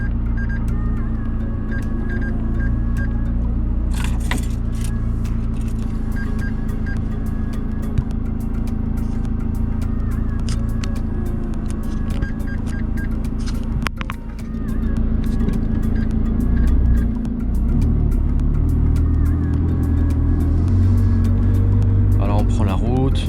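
McLaren 600LT supercar driving on an open road, a loud low engine drone and road rumble running throughout, with someone talking over it most of the time.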